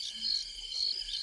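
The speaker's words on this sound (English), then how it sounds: "Where's the cricket sound?" Cricket chirping played as a sound effect, a steady high trill in repeated pulses across a short stretch, moderately loud with no talk over it.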